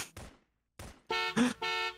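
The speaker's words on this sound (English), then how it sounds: "There's a car horn here too." Car horn honks in a Garry's Mod Prophunt match: several short, loud toots in quick succession, the last ones longer and held, with a brief gap after the first two.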